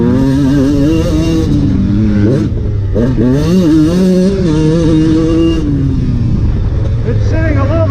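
A restored 1990 Honda CR125 two-stroke motocross bike revs hard on a track, loud and close, its pitch climbing and dropping through upshifts in a continuous wailing run.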